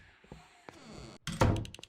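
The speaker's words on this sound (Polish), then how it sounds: "Zamknij te drzwi." Door closing in the horror video game Home Sweet Home: a single heavy thunk with a short knocking burst, loud and close, over a quiet game background.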